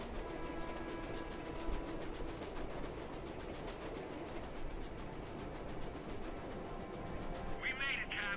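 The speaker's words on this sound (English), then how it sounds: "Oh, the train's a bit on fire, but don't worry, it'll hold together." Train clattering along rails in the Captain America: Super Soldier video game, a steady rumbling clickety-clack with rhythmic wheel beats and a brief higher screech near the end, continuous and fairly close.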